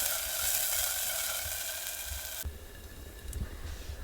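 Onions fry in oil in a pan until browned, with a steady, loud, close sizzle that softens a little partway through, plus a few faint clicks and stirring sounds.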